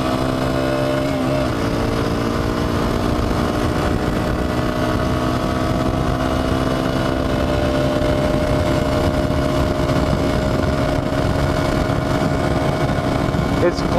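A supermoto motorcycle engine drones loud and steady through a top speed run, its pitch holding high and sustained with wind rush underneath and no pause in the engine note.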